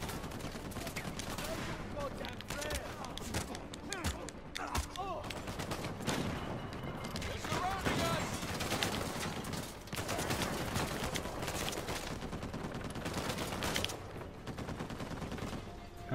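Massive turrets firing in Uncharted 4 on crushing difficulty, a long stretch of sustained heavy fire mixed with other combat noise and music, with a voice talking at times.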